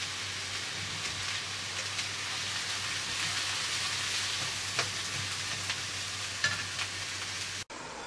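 Thin potato slices cook gently in a pan with a steady, soft sizzle and faint crackle, close and continuous, with no talking.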